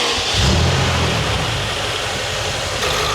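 A car engine rises in a quick rev near the start, then settles into a steady, rough running rumble close by. No voices are heard.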